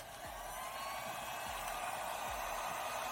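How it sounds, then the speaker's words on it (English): A heat gun blows a constant, even roar of hot air onto a freshly painted Suzuki Samurai part, a steady noisy rush with no pauses, alone and without voices. "I'll heat it up with the heat gun or something"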